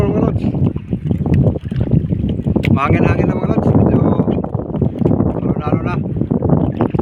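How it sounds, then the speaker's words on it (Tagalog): Strong wind roars across the microphone at sea, loud and gusting, with water sloshing around a boat and someone speaking briefly underneath. "Mahangin-hangin na mga lods."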